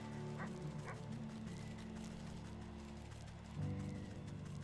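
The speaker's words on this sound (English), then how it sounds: "I thought that dog had left me alone, but it had not." A dog in the video game Wytchwood gives a couple of short yips early on, heard over steady game music with a low droning background.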